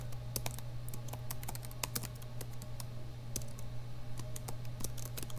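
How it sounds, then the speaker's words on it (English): Typing on a computer keyboard in Google Slides, with steady light key clicks in an irregular rhythm over a low electrical hum, fairly quiet and close, with no speech. "I'm going to type here"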